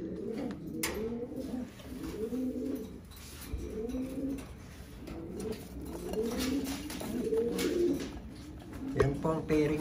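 Pigeons at a breeding loft coo repeatedly in rolling, throaty phrases close by, with other bird calls and faint background noise around them.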